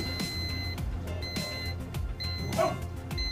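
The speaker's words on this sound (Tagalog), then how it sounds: "Nag-a-alarm na yung buzzer natin." A control panel buzzer alarms after a motor overload trip, giving short high-pitched beeps in repeated bursts over background thumps and clatter.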